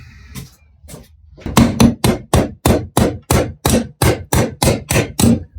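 A hammer strikes a pin out of a vise in a workshop: about a dozen loud, sharp metallic blows in a steady rhythm after a few lighter taps, close up and alone.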